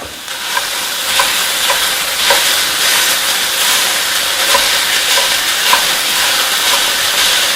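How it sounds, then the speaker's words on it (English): A pound of ground beef sizzles loudly in a skillet with well-sauteed onions for a cheeseburger casserole, a steady hiss broken by occasional scraping stirs as the meat is broken up. "I've got a pound of ground beef I'm going to dump in here"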